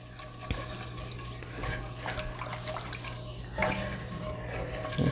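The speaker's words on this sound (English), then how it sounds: "stir as you pour, so you don't have lumps" A mixture is stirred while liquid is poured in, a steady wet swishing with a few scrapes and clinks from the utensil.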